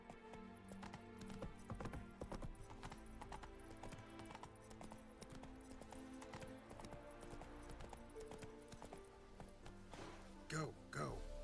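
Roach, the horse in The Witcher 3, gallops with fast, steady hoofbeats over game music. A short whinny comes near the end.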